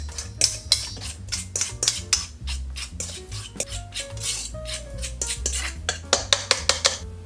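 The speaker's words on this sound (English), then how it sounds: "With the fork, we're gonna smash all the yolk." A fork scrapes and clinks rapidly against a bowl while mashing boiled egg yolks, making dense, irregular metallic taps and scraping strokes at close range; no one speaks.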